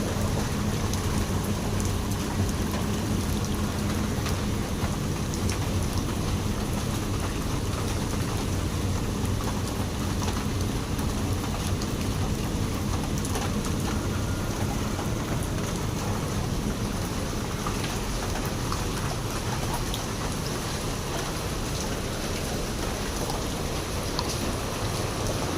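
Heavy rain pours steadily during flooding in the Port Area of Manila, a dense, unbroken hiss that lasts throughout. Thunder is not clearly distinct, and no one speaks.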